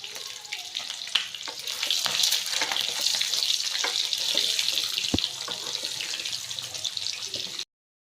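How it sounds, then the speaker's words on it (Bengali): Chopped onion hisses and crackles in hot oil in a pan for egg bhuna, a steady close sizzle with scattered pops and clinks, then it cuts off abruptly. "তো ডিম ভুনা করার জন্য পেঁয়াজটা দিয়ে দিল গরম তেলে।"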